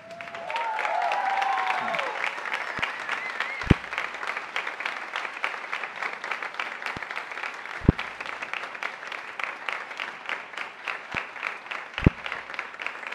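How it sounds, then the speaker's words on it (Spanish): An audience at a university event in Costa Rica breaks into sustained applause, a dense steady clapping with a few sharper individual claps, and a brief whistle near the start. "yo quiero que le brindemos un aplauso como se lo merece al señor Josué."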